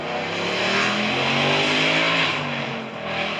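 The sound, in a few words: car accelerating on a drag strip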